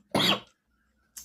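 A single short, sharp cough from a person teaching a class 10 maths lesson, followed by a fainter second burst, with no talk.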